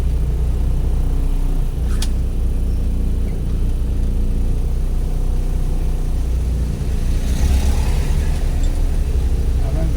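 City street traffic on Roxas Avenue in Iligan City, Philippines, a steady low rumble of engines with passing vehicles and a brief sharp click early on, continuous and fairly loud.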